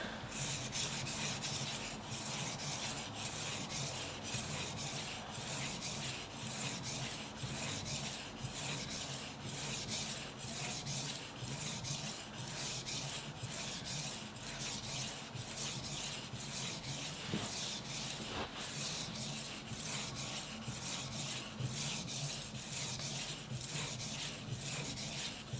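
A yanagiba knife being restored is sharpened on a wet 3000-grit whetstone, with rhythmic back-and-forth rasping strokes repeating steadily and close for the whole stretch.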